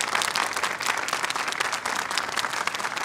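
A conference audience claps in a dense, continuous burst of applause, loud and even throughout, as Thomas Hartman is welcomed to the podium.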